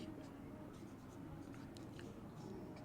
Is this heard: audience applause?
no